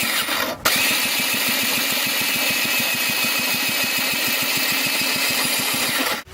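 A JetSurf jetboard's small engine runs steadily at a fast, rattling pulse, loud and close, after a brief start at the beginning and cutting off at the end.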